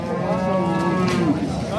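A cow moos in one drawn-out, wavering call at a livestock market in Mastchoh, heard loud and close over a steady murmur of background noise.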